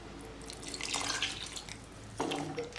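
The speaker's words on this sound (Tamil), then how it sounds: "இன்னும் கொஞ்சம் தண்ணி ஊற்றிக்கலாம்." Water is poured into a drumstick sambar, a Tamil lentil stew, giving close, wet splashing and trickling in two bursts with no talking.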